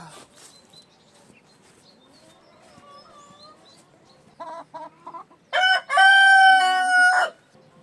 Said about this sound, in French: Qu'est-ce qu'elles sont chiantes ces poules, mais qu'est-ce qu'elles sont chiantes.